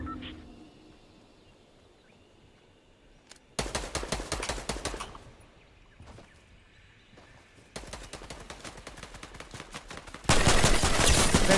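Rapid bursts of gunfire from a weapon in the video game Fortnite, loud and close, arriving in three separate volleys after a quiet stretch, the last one the loudest.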